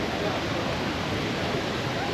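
Rushing water of Kravica Waterfalls forms a dense, steady broadband roar, constant and even in level with no breaks, filling the whole moment at moderate loudness.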